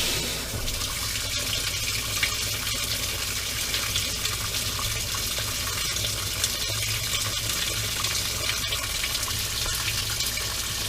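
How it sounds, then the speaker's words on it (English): Water rushes steadily into a washing machine under repair as it fills for a small wash cycle, a constant hiss and splash lasting about eleven seconds with no talk. "We're going to set a small wash cycle here."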